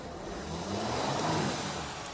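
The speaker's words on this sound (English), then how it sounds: "I'm gonna rev it" A Mercedes Sprinter van's engine revs up and eases back down with a soft turbo hiss under the hood, a close steady rumble swelling in the middle and settling toward the end.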